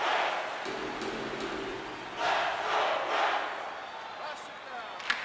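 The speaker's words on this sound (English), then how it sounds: "You can feel the energy in this crowd." A hockey arena crowd in the video game NHL 26 gives a continuous roar with a couple of louder swells of cheering and a faint sharp knock near the end, with a commentator's voice likely running underneath.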